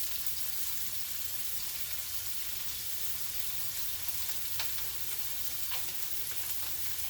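A simmering mixture seasoned with cayenne pepper bubbles faintly in a pan as it is stirred, a soft, even sizzle with occasional light scrapes and ticks, quiet and close.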